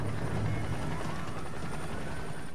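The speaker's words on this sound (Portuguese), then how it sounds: "Dava para ouvir um helicóptero à distância." A helicopter drones steadily in the distance over a rescue scene at an airliner crash site on the Potomac River, a continuous low rotor hum that holds at an even level with no talk.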